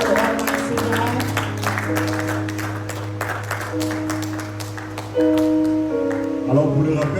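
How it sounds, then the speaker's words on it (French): A church congregation applauds during a service. Dense, continuous clapping mixes with sustained musical tones from instruments that shift pitch partway through, and the sound grows louder near the end. "can we please clap for the Almighty God?"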